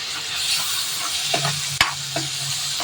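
Tomatoes going into a frying onion masala for tomato biryani, a steady low sizzle with a few sharp clinks and scrapes of a spoon stirring the pan.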